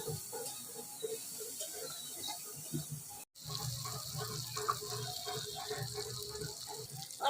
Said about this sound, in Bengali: অল্প সামান্য জল দেবো, বেশি দেবো না।